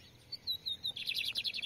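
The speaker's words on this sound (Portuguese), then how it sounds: "Ele canta muito baixo, galera. Bem baixinho." A lined seedeater sings softly in the sertão, giving a short run of thin, high chirps followed by a quicker rapid twittering phrase, faint and alone with no talk.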